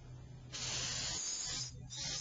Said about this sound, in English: You always want to test the spray pattern.